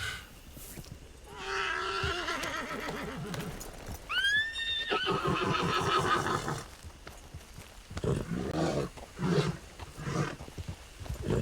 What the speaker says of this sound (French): C'est des chevaux de shérif qu'on entraîne en fait.